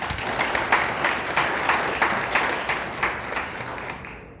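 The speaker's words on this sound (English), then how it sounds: "we give them a round of applause" At an annual general meeting, an audience gives a sustained round of applause, many hands clapping in a dense, even roar that holds steady and tapers off slightly toward the end.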